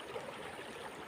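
Flowing water of a mountain river gives a faint, even rushing wash, steady throughout and heard from a distance, with no one speaking.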